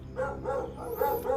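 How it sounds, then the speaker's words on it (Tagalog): A dog barking close by in repeated hoarse yips and bow-wows, four or five in quick succession, with no talking over them. "kahit maingay ang aso"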